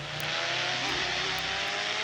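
A car driving in a video game, given as a faint, even engine hum with a low drone and no voices.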